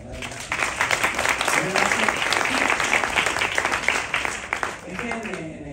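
Applause from the cast and press at a press conference for the film Muertos S.L. fills the room in dense, steady clapping for several seconds before tapering off, with voices mixed in.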